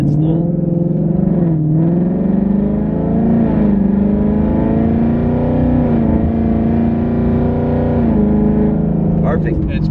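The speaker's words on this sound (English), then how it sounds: "We do some normal driving." A Ford Mustang with a 10R80 transmission drives on the road, its engine a loud, steady droning hum from inside the cabin that climbs and dips slightly with the throttle, with speech heard over it.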